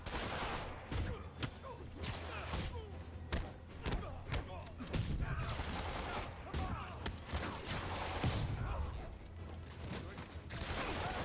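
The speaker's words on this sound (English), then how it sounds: "Never gets old when they shoot each other." Bursts of gunfire and thudding impacts in the Spider-Man video game come as enemies shoot each other, with sharp cracks spaced irregularly over a steady game background at moderate level.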